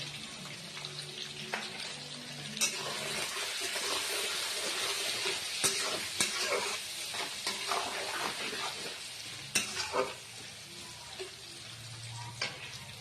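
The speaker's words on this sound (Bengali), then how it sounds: "পেঁয়াজটা আমার হালকা ভাজা হয়ে এসছে।" Onions fry with salt and turmeric for a mutton dish, making a continuous sizzle broken by scattered spoon scrapes and clinks. Water runs briefly near the end.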